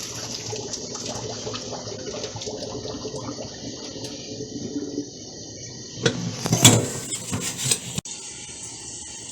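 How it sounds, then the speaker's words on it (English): Hot cooking water poured from a stovetop pot past its lid, a soft trickle that swells into a louder splashing gush near the end. "to take it out from the stove and drain the water out"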